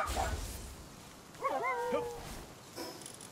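A Direhowl, a wolf-like pal creature in the video game Palworld, gives a short sequence of whimpering yips and whines, with a soft thump at the start, heard alone over a quiet background.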